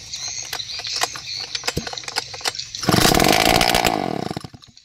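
A loose, separately mounted grass trimmer engine is pulled and sputters, then catches and runs at a loud, steady high-pitched buzz before easing off. It is recorded close up outdoors.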